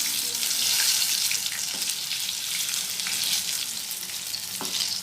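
Potato and onion pakodi, with thickly cut onion, frying in hot oil, giving a steady, dense sizzle with light crackles that holds for the whole stretch and has no talk over it.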